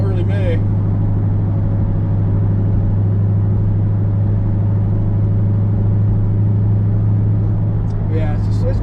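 A 2001 Pontiac Trans Am cruising at a steady pace, its engine a loud, constant low rumble heard from inside the cabin, with people talking over the drone.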